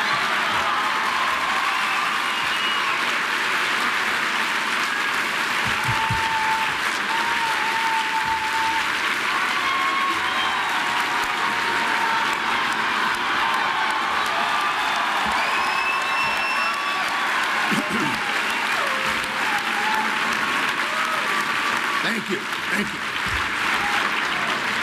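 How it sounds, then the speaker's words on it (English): A large audience at a CPAC speech applauds loudly and steadily, dense clapping that carries on throughout with occasional cheers and whoops in the crowd. "those of you watching at home may wonder why this is being applauded"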